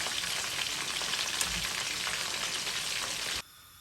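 Buffalo wings deep-frying in hot oil give a dense, steady sizzle and crackle, loud and close, running unbroken before cutting off abruptly near the end.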